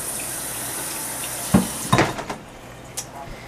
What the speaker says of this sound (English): rinse this off and let's make the potato salad